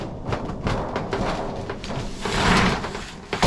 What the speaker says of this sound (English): Oh, the door can't get to latch.